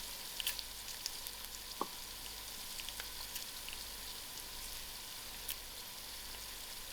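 Dry chilies, green chilies and curry leaves sizzling in hot oil with fried onions, a faint, steady crackling hiss with a few sharp pops, no talking.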